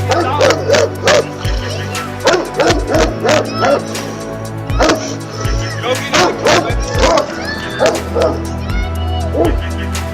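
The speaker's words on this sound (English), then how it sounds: "A devoted father protecting his child from a wild dog's attack." A wild dog barks, yips and whimpers in repeated sharp bursts during an attack on a man shielding his child, loud and close, with rhythmic thuds and scuffling between the calls.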